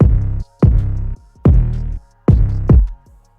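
Four short, punchy 808 bass hits from an FL Studio trap beat, each cut off quickly with brief gaps between, loud and booming with a sharp attack and no talking.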